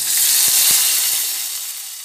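A loud, steady sizzle and hiss of water hitting a hot pan of mango pieces for a sour fish curry, with a few soft knocks early on and the steam gradually easing.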